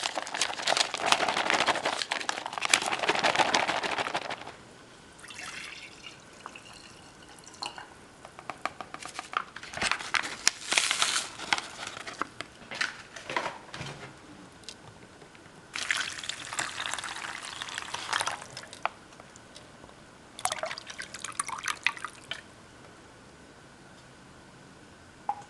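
Water pours into a meal pack drink pouch up to the 250 ml line in several bursts of splashing trickle, close and moderately loud, separated by quieter pauses and some handling.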